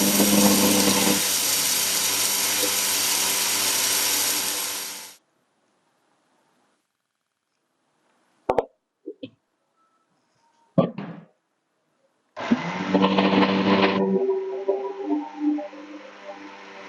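A mixer grinder whirs loudly as it grinds roasted spices into curry powder. The motor runs for about five seconds, a few knocks and jar handling follow in near silence, then a second loud burst winds down.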